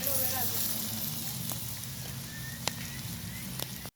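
Potato slices frying in a pan over an outdoor campfire, a steady close sizzle and crackle with a few sharp pops, while a voice talks over it.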